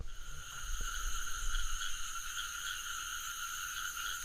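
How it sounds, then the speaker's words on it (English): Cricket chirping used as a sound effect: a steady, continuous high-pitched chirring drone that holds evenly throughout at moderate loudness, with no talking. "Just add like the tick tock, the cricket noises."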